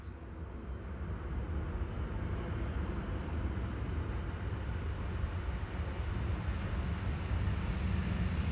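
An arriving aircraft on Schiphol's Polderbaan runway 18R gives a steady, broad roar of engine and rushing air that swells slightly and holds loud throughout, with no speech.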